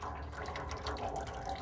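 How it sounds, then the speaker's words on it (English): Meat juice tipped from aluminum foil into the water pan of an offset smoker during barbecuing: a steady, close splashing pour of liquid, running continuously without speech. "I'm actually just going to tip this aluminum foil over and pour that juice off right down there into that water pan."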